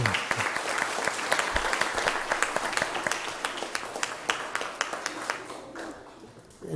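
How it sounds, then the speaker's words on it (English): Applause breaks out at a city council meeting: many hands clapping in a dense, steady patter that thins out and fades near the end. "So let's give him a round of applause"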